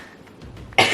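A single sharp cough from someone ill with croup, sudden and loud at the end after near silence.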